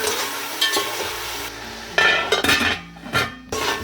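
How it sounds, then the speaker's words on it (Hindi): Masala for green chickpea pulao frying in a pot after a light splash of water, with a bright sizzle and hiss and several scraping stirs of a spoon against the metal, close and fairly loud with no talk. "हल्का सा पानी का छिड़काव कर देंगे ताकि ये मसाला अच्छी तरह तैयार हो जाए।"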